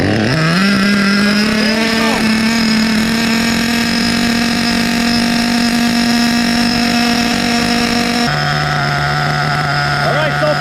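An HPI Pulse 4.6 nitro RallyCross RC buggy with an LRP32 engine runs continuously at a steady high-pitched idle, loud and close, revving briefly near the start and dropping in pitch near the end.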